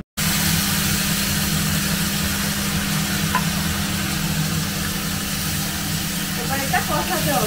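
A dish sautéed in a pan with cracked cardamom gives off a steady, loud, close sizzle that continues without a break, with faint clinks from stirring.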